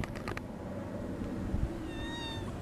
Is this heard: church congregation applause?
no